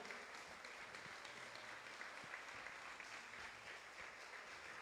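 An audience in a city council chamber gives applause at a presentation of women mayors from Veracruz, a continuous faint wash of many hands clapping heard from a distance, even and unbroken.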